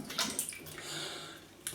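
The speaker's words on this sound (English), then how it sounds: "let's have a little feel about with a quick rinse." Brief splash and trickle of running water for a quick rinse during a wet shave with goat's milk shaving soap and a Gillette Superspeed razor, close and steady, with a couple of sharper splashes.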